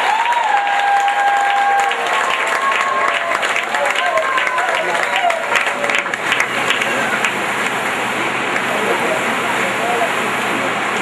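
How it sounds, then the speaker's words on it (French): A church congregation at a gathering in Yaoundé applauds and cheers for Jesus, with sustained loud clapping and crowd noise filling the space steadily throughout, and a few raised voices rising above the din. "Acclamez encore Jésus."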